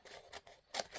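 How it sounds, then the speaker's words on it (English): Scissors cut paper in several quick, close snips, soft and crisp, in a quiet room. "And if I can cut straight."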